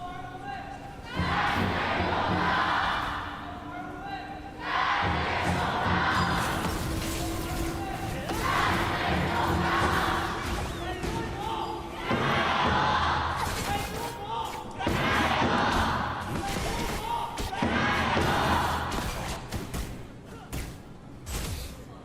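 A large arena crowd at the KPL summer playoffs, an esports tournament, roars and cheers in loud surging waves, with booming thuds and a steady tone sustained underneath.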